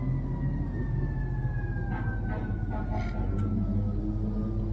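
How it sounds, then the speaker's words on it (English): Emergency vehicle sirens wail steadily along a city street, fairly distant under a heavy low rumble of traffic. A few faint brief clicks and taps sound nearby. "I've been hearing sirens"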